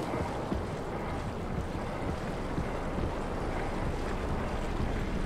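Wind in the Abyss, an undersea area in the video game Soma: a constant, heavy rushing roar with low rumbling, steady and enveloping for the whole stretch.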